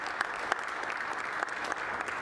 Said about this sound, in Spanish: Un aplauso para Arián.